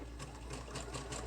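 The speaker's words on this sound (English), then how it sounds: "be able to see my wonderful sewing machine" A self-threading sewing machine runs quietly at a steady pace, its needle giving a quick regular mechanical ticking over a low motor hum.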